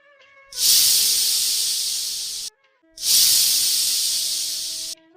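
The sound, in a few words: pressure cooker whistling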